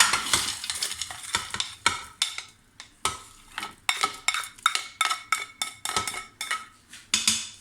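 Onions and peppers sizzle steadily in a Cookeo multicooker for a fish tajine, with a continuous close fry hiss broken by frequent rhythmic scrapes and stirs of a utensil against the pot.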